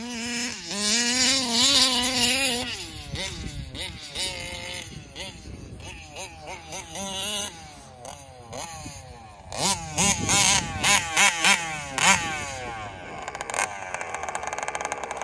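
A Taylor RC 40GT radio-controlled car's small engine screams and revs in rising and falling bursts as it tears up sod, whining up and down repeatedly, with a voice speaking over parts of it.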